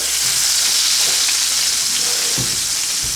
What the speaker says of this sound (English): And we have a sizzling hot prime rib there.